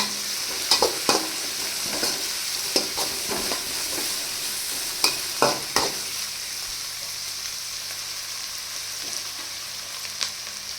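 Sliced onions sauté in a pan for a drumstick and egg poriyal, a steady close sizzle with scattered scraping knocks of a spoon stirring them, heaviest early on, then a calmer continuous fry.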